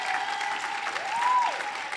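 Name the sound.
applause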